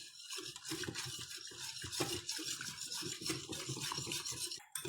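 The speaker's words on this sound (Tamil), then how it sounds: "இந்த டைமில் பால் ஆட் பண்ணிவிட்டு விஸ்கால் நல்லா இது பண்ணுங்கள்." Milk being whisked into a pasta mixture to break up lumps, a quick scraping, rhythmic whisk against a bowl repeating steadily and close up, with no talking.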